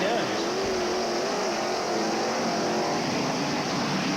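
Dirt track race cars at Brownstown in 1985 roar in a steady, continuous engine drone with a wavering pitch as the field battles for the lead, a loud racing din that persists throughout.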